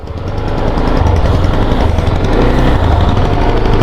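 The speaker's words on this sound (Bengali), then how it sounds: "একটু রাইড করি বাইকটা" A CF Moto SR 300 motorcycle with a 300cc engine, heard while riding, gives a loud steady engine drone that builds in the first half second and then holds with a rough vibrating texture.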